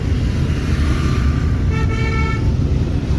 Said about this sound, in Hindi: हॉर्न दो हल्के हल्के साइड से